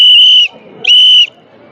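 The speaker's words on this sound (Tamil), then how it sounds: "விசில் போடுப்பா." Two long, loud, shrill whistle blasts from Chennai Super Kings cricket fans, close up, separated by a short pause with faint background noise.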